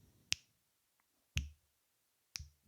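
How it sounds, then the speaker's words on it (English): Three crisp finger snaps, close and sharp, spaced about a second apart against near silence. "Oh, now we snap."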